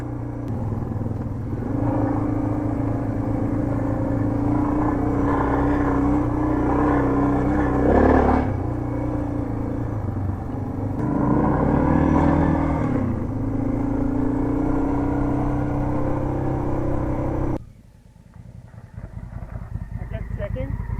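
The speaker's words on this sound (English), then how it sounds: "That twin, that's a nice bike." Honda Africa Twin motorcycle engine rumbling steadily while riding a track, loud and close throughout with swells around the middle, then dropping away abruptly near the end; faint talk mixes in.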